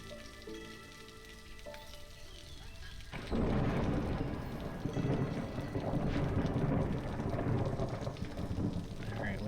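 Steady rain with rumbling thunder from the video game Against the Storm comes in moderately, then swells into a heavier downpour partway through.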